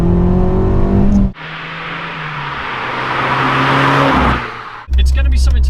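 Abarth 595 Competizione, a hot hatch, revving hard in a sustained rising engine roar that swells and then drops off, framed by short bursts of other sound at the start and end.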